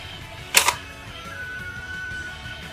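A lever pulled on a Power Rangers Samurai Mega Blade toy gives a quick double mechanical clack, close and sharp, followed by a faint electronic tone over low room noise.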